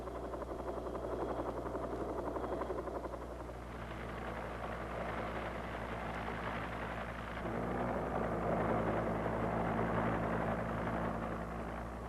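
A Cobra AH-1G armed helicopter runs nearby, a steady loud rotor and turbine drone with rapid blade chop throughout, rising slightly in intensity toward the end.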